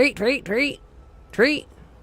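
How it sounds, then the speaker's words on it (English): A caged pet bird beside another caged bird calls out in a few short, warbling, voice-like bursts, two in quick succession and then one more after a pause, faintly in the background. "He's back there saying Becky, right next to the other bird."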